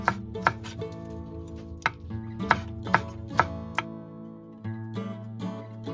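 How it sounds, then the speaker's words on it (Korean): A knife taps steadily against a cutting board, chopping spicy cheongyang and red chili peppers for a pork cheonggukjang stew, the crisp close cuts falling in an uneven rhythm over a faint kitchen hum. "매콤한 청양고추와 색을 내주는 홍고추는 먹기 좋은 크기로 썰어주세요."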